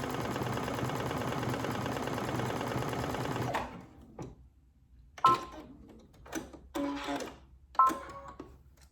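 A Brother Essence VM5200 sewing machine stitches a decorative star pattern in a continuous, even whir for several seconds, then stops, followed by a few scattered mechanical clicks and knocks.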